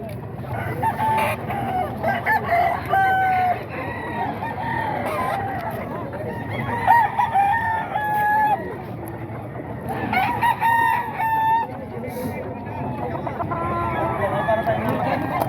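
Several roosters crow repeatedly, some near and some farther off, over a busy background of clucking birds and voices talking, at a rooster market in Bocaue, Philippines.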